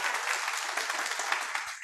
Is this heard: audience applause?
yes